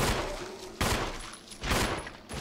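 Gunshots in Resident Evil HD on PC, three loud, close blasts roughly a second apart, each decaying quickly, with no talk over them.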